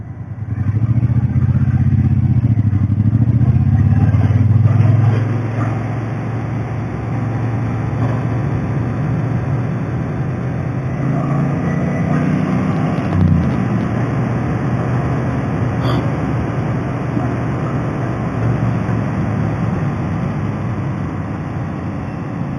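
A Triumph Bonneville motorcycle on a road test ride drones steadily, its engine and wind noise loud and continuous throughout with a slight surge near the start; no talking.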